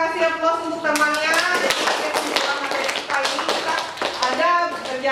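Classroom applause for a classmate, a dense burst of many hands clapping steadily through the whole stretch, with children's and a teacher's voices mixed in under the clapping.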